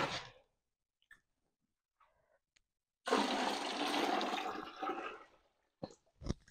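A steady rush of boiled hot water pours into a bucket for a couple of seconds, preceded by quiet clicks and followed by a few sharp knocks.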